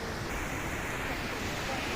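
The distant Jogini waterfall near Manali carries as a dull, even roar of rushing water, steady and faint throughout with no other sounds standing out.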